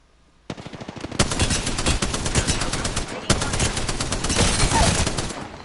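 Rapid automatic gunfire in a video game bursts in after a short quiet, long loud rattling volleys of machine-gun fire with a brief pause before another sustained stream, with faint voices underneath.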